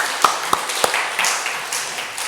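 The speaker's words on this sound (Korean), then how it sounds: "하나님께 영광의 박수 돌려드리겠습니다" A church congregation applauds during a Sunday service, a few sharp hand claps at first and then a looser, softer patter of clapping that fades toward the end.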